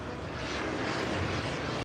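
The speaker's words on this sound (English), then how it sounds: "Is a jet behind me?" A jet model plane flies at an RC model airshow, a steady loud broadband roar that continues without a break and then cuts off.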